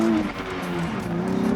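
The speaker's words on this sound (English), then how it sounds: "So this is my first drive of the Z in the dry." A tuned Nissan Z pulls hard down a drag strip, its engine droning loud and close with a steady, slightly rising tone and a rough edge of tyre and exhaust noise.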